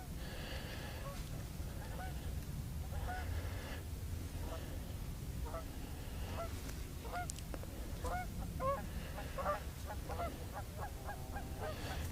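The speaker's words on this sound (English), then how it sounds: "Here's the geese a cackling." A flock of geese honking repeatedly in the distance, calls scattered and overlapping over a steady low rumble of wind or water.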